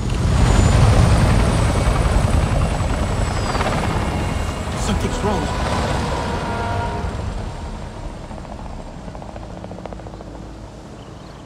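Helicopters flying in Avatar: Frontiers of Pandora, a loud, close rotor roar that slowly fades into the distance as someone speaks over it.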